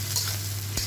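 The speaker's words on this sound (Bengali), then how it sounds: "পেঁয়াজটা দিয়ে আরও 5 মিনিট ভেজে নেব লাল করে।" Chopped onion and garlic frying in a pan for masoor dal, a steady broadband sizzle with a low hum underneath and one brief clink near the end.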